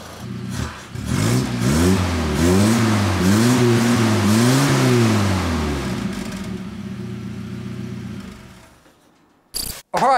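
A Toyota RA28 Celica fastback engine with a new exhaust, heard from the rear, revs up and down repeatedly in rising and falling waves, then drops back to a steady idle before fading, with a couple of clicks at the end.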